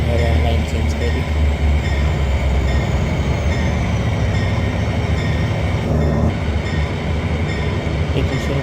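The Barendra Express, running from Rajshahi to Chilahati, slows under braking with a loud, continuous, dense rumble of wheels and carriages throughout.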